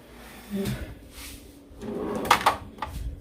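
Vanity drawer holding eyeshadow palettes in a beauty room, slid open and shut: a soft thud around half a second in, then a louder sliding rattle with sharp clicks near the end, quiet and close with no talking.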